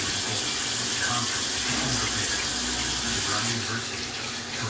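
A cup and a half of half and half is poured into a pan with a roux, a steady, close liquid gush running unbroken for several seconds.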